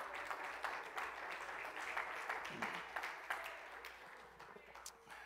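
A church congregation clapping hands during a Sunday morning service, steady scattered applause at a distance, faint and continuous with a murmur of voices.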